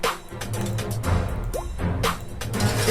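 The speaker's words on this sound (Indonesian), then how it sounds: "Ada suara apa tuh? Tetesan air." Within a string-driven hip-hop song, one quick upward-gliding water-drop effect plinks once over the steady music bed.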